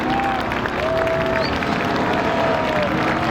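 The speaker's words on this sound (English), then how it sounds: "Applause for all them guys, huh?" Crowd in the stands at a speedway applauding the drivers, steady dense clapping and cheering mixed with broad noise, with an announcer's amplified voice over it.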